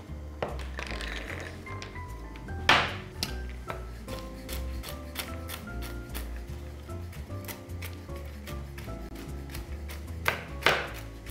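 A knife chops walnuts on a board for a dolma dish. The strikes come as irregular, close, crisp taps, with two sharper bursts of chopping, over a low steady hum.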